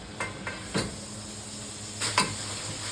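Chopped onion hitting a hot pan with meat, a soft steady sizzle under a few light scrapes and clinks of a spoon stirring against the pan, close and without talk.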